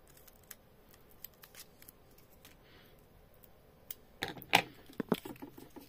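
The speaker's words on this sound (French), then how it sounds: "Alors, mes ciseaux." Scissors snipping through a piece of foam while making a handmade Christmas card, with a quiet spell followed by a burst of several close, crisp cuts near the end.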